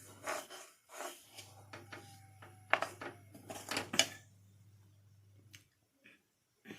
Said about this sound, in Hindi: अभी मैं इसे अच्छे से मिक्स कर रही हूँ।